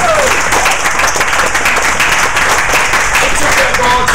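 Audience at a California gubernatorial campaign rally claps loudly and steadily throughout, a dense crowd applause with some cheering voices mixed in.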